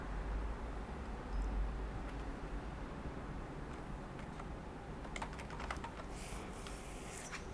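Quiet, steady clicking of computer keyboard typing at a desk, mostly faint and even, with a few sharper key taps near the end over a low background hum.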